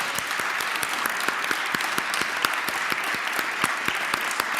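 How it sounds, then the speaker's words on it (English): A final round of applause rises from a room of participants at a community visioning session, an even, continuous patter of many hands clapping at moderate volume with no talk over it. "maybe just one last round of applause for yourselves"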